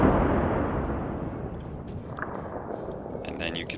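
An artillery gun fires once in the Arma 3 video game, a loud boom at the start that rolls away into a long rumbling decay, with faint clicks near the end.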